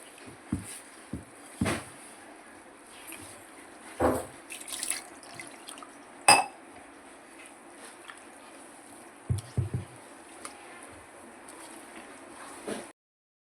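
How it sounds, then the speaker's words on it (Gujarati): Water is poured into a bowl of semolina to soak it, a quiet trickle broken by a few splashy pours and drips in a still kitchen. "સોજીને આપણે એક બાઉલમાં લઈ લઈશું અને આપણે પાણી રેડીને એને પલાળવા 1 કલાક સુધી મૂકી દઈશું"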